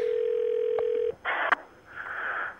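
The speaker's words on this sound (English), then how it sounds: "Oh, no, he's ringing." A telephone line on a call gives a steady electronic tone for about a second, then a few short separate tones and a brief beep, all clear and alone with no talk.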